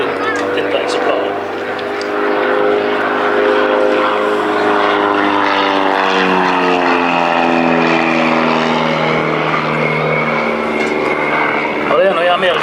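An American propeller airplane flies at the Stord Airshow, its loud, close engine drone holding for the whole stretch with a pitch that slowly bends and shifts as it passes; voices may be faintly mixed in.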